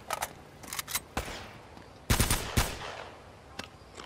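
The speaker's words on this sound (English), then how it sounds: "I'll get you with the pistol, my brother." Pistol fire in the video game Uncharted: Drake's Fortune: several sharp gunshots spaced irregularly, with a tight double burst near the middle, loud and close, with no talking.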